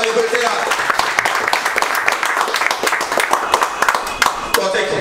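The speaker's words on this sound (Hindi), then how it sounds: "एक बार जोरदार ताली फिर से।" Students in a classroom clap in a brisk, uneven burst of hand claps, close and fairly loud, with voices talking underneath.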